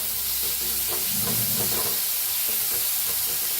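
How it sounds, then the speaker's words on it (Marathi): Onion, green chili and garlic stirred and roasted in a pan for a Maharashtrian kat vada, a steady sizzle and hiss of frying with soft scraping stirs throughout, close and continuous. "घेऊया कांदा, मिरची आणि लसूण आपण बारीक करून घेतलेला घालूया. आता ह्याला मी हलवून भाजून घेऊया."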